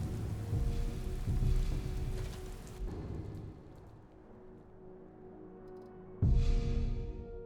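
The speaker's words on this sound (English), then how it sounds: "Oh, it's raining." Steady rain hisses over a low rumble of thunder in the video game Skyrim, fading quieter midway before a louder roll of thunder and rain returns near the end.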